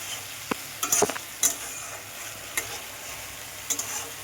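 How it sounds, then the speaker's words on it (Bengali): Cumin, Kashmiri chili and coriander powder frying in a pan for doi katla, a soft steady sizzle with several sharp scraping stirs and clinks of a spoon against the pan. "এটাকে এবার আমি ফ্রাই করব।"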